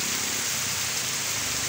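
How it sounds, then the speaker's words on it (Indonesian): Heavy rain pours down in a steady, dense hiss that stays loud and even throughout, with no voices heard over it. "hujan guys gede"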